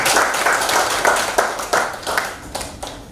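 An audience at a university teacher-education event gives a brief round of clapping: dense, moderately loud hand claps that swell, then thin out into scattered claps over about three seconds.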